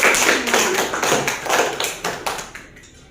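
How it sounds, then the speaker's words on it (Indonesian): A class of students claps in rhythmic bursts, loud and close, the claps grouped in a patterned beat that trails off after about three seconds with little talk over it. "Boleh tepuk tangan."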